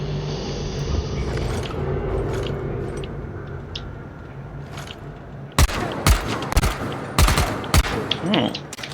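Machine gun fire in the zombie game Dying Light: a steady roar of in-game ambience gives way to several loud, close bursts of rapid automatic shots in short clusters.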